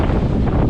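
Strong wind on a beach at Boracay buffets the microphone with a loud, continuous, low rumbling roar that never lets up over the short stretch.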